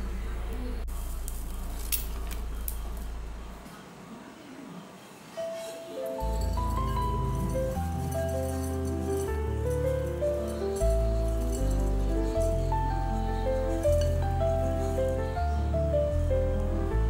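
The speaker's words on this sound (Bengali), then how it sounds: "এবার বাটিতে ঢেলে নেব।" Crunchy fried flattened rice (chira) is tipped from a pan into a bowl, giving a brief close scraping rattle of dry flakes and clinking before background music comes in.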